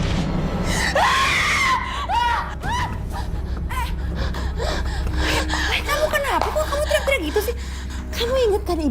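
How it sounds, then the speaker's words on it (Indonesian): A woman screams and gasps in a frightened outburst inside a house, her cries rising and falling over several seconds amid tense, agitated vocal sounds. "Kalau dengar kamu teriak-teriak gini"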